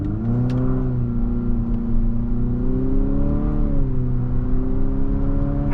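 A 2025 Infiniti QX50 Luxe AWD with a CVT revs in manual mode under simulated paddle shifts, its engine drone rising steadily in pitch, dipping briefly, then climbing again, loud and close with no talking.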